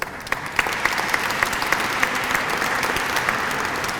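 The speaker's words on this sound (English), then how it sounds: "So you can give yourself a round of applause for that." Audience applause fills a community gathering hall in Cleveland, Cuyahoga County, a steady dense patter of many hands clapping at moderate loudness throughout, with no voices over it.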